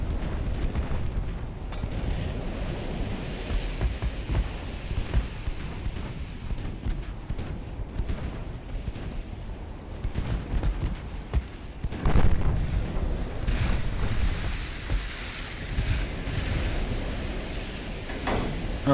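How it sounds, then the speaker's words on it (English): Warship guns firing in the Ultimate Admiral: Dreadnoughts naval battle off Gotland, with deep booming salvos and rumbling blasts rolling over a continuous low sea-and-battle roar, a stronger burst midway, no talking. "Let's get everybody firing on this guy."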